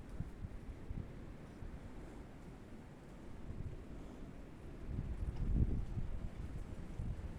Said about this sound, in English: Let me stand away from the wind.